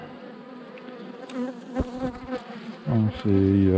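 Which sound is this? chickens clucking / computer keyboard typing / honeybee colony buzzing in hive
honeybee colony buzzing in hive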